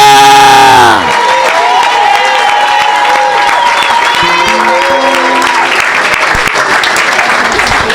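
Loud, dense applause and cheering from a church congregation fill the space, with scattered shouts and a horn-like tone rising above the sustained roar after an opening burst.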